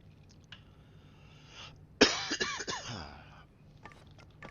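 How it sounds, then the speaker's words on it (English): A single harsh cough bursts out close to the mic, followed by a couple of rough, throaty hacks that fade within a second, with near silence before and after. "Sorry for the cough."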